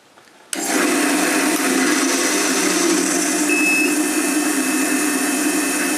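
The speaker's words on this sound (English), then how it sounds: "we're going to turn it right back down to 500 RPM" A wood lathe set up for turning a French rolling pin starts up at 500 RPM, its motor whine rising abruptly and then holding a steady, loud, continuous hum with a faint high tone near the end.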